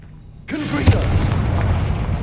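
A Confringo fire spell detonates in the video game Hogwarts Legacy, a sudden loud boom followed by a sustained crackling, rumbling roar with a sharp burst near the start.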